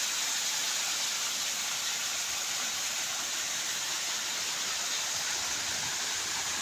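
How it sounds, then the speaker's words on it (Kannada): Borewell water pours and splashes steadily among teak trees, making a dense, continuous rushing gush like a small waterfall. The sound stays constant and close with no voices over it. "ನೋಡಿ ನೀರು ಹೆಂಗೆ ಬೀಳ್ತೈತೆ."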